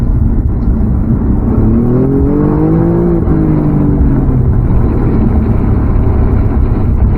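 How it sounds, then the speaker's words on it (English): A 2020 Alfa Romeo Giulia Quadrifoglio's engine drones loudly inside the moving car, then revs upward with a rising pitch after a downshift before settling into a steady, strong hum. "there is quite a satisfying engine noise"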